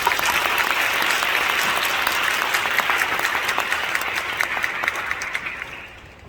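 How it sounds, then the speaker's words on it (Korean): An audience at a Korean Pentecostal conference lecture gives warm applause to welcome a seminary professor, a steady, dense burst of many hands clapping that slowly fades after about six seconds. "여러분 뜨거운 박수로 환영해 주시기 바랍니다."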